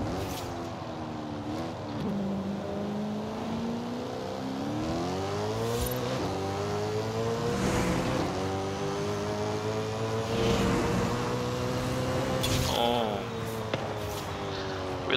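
BMW M3-GTR race car with a drag tune in Forza Horizon 5, its engine droning steadily and rising through gears in repeated climbing pitch sweeps, loud and continuous throughout.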